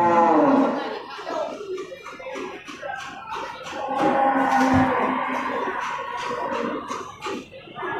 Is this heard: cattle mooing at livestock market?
yes